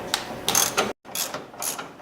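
A ratchet with an extension and a 15 mm socket tightens a rear shock bolt on a 1998 Dodge Durango, giving rapid close clicking in two short bursts separated by a brief pause, with no talk.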